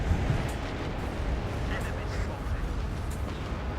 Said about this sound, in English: Artillery coming in actually from the enemy here.